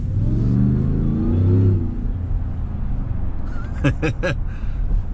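A 775 HP supercharged Ford Shelby F-150 truck engine rumbles loud and close, the big blower whining as it rises through a couple of sharp revs near the end, with someone talking over the first part.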